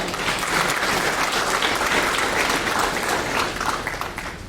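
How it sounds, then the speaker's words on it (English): Thick, steady applause fills the hall at the 2021 Les Martinique Debutante Ball, a loud, continuous wash of many hands clapping that eases slightly toward the end. "give yourselves a round of applause before we start"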